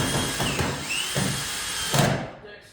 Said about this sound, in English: I'm just going to screw these two together, and then toenail into the other top plate.